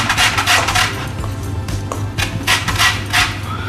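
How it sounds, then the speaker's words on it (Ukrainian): Orange zest is grated for a cottage cheese mousse, a steady scraping rasp in quick repeated strokes, close and fairly loud, with no one talking. "Я буду терти цедру."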